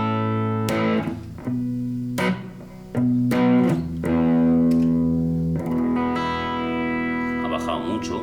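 Harley Benton Tube 15 valve guitar amp head, just fitted with a new V1 gain tube and set to low output, playing distorted chords and single notes with sustained crunch, separate strums and ringing decays, fairly loud and alone.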